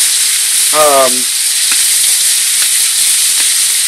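About a pound of greasy meat fries in a preheated pan, giving a loud, steady, close sizzle throughout, with a brief voiced sound early on.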